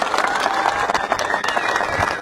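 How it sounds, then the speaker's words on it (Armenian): A crowd claps together at an outdoor campaign rally in Getap, Armenia, in a dense, sustained burst of applause with some cheering mixed in and voices under the clapping. "եկեք մի հատ իրար ծափ տանք արթնանանք"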